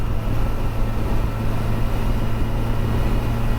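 A 2021 Kawasaki Versys 1000 SE LT motorcycle rides along with a steady, loud engine drone mixed with wind rush, continuous and unbroken throughout.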